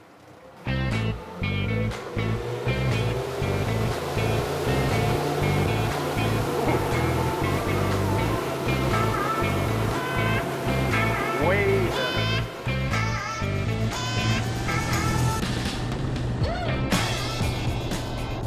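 A 25-foot Parker fishing boat fitted with a flotation bracket runs a hole shot from a standstill, its outboard roaring loud and steady with rising pitch, water rushing along the hull and a voice speaking over it.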